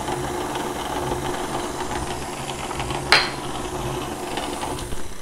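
An electric hand mixer runs steadily through cookie dough as an egg is blended in, a continuous mid-level motor whir with one brief sharp clack partway through.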